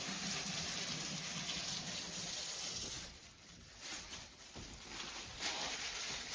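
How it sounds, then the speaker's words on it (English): Tap water running while hands are rinsed after handling dyed potatoes, a quiet steady gushing stream that dips and breaks up partway through. "I'm gonna rinse my hands off."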